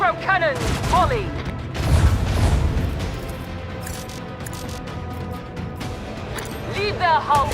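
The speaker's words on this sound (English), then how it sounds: "Macro cannons, volley!" Macro cannons unleash a volley in a space warfare video game, a burst of heavy booming blasts and rumbling fire that sits under a commanding voice and dramatic game audio.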